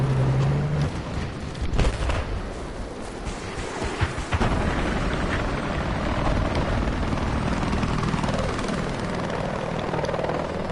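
A Russian helicopter in Battlefield 4 roars with a steady, loud rotor drone and engine whine, continuous and close throughout, with gusts of wind noise and no talking.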